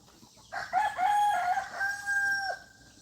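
A rooster crows once, loud and close, a drawn-out call with a sharp rising start and a long falling tail, with no talk over it. It comes from a backyard pair of pet chickens, a male and a female.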